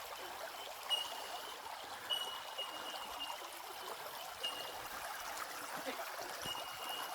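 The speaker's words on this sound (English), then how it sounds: "So this is Little Plains Creek." Little Plains Creek in New South Wales flowing past a campground, a soft steady trickle and babble of shallow water, faint and continuous with no talking.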